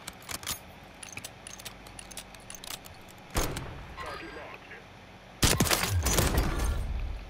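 Gunfire in a shooter video game comes as scattered sharp shots followed by two louder, denser bursts, with voices talking underneath.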